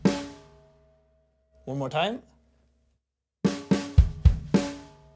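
A drum kit plays the first rhythm of a groove as a short burst, stops, and after a brief spoken line a second burst of the same punchy hits follows, close and loud.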